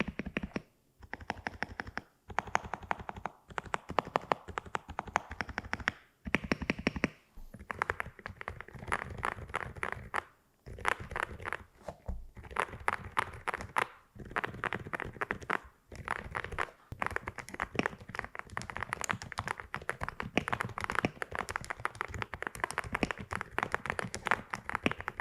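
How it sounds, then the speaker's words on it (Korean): Fast, continuous typing on a Freeflow Arkon silent mechanical keyboard with low-noise switches: soft, dense, muffled key clicks close by, broken by brief pauses, with no voices. "조용한데 은은하게 들리는 빗방울이 떨어지는 것 같은 타건음이 너무 이쁘고 마음에 드는 것 같아요."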